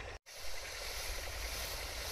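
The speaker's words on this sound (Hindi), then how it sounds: "ट्रैक्टर से डल रहा है, नली से।" A tractor pumps liquid through a hose in a mung bean field, giving a steady, loud hiss of rushing spray and engine drone after a brief cutout at the start.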